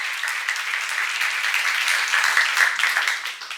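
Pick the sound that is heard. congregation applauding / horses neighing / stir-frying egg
congregation applauding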